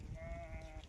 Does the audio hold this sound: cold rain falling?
no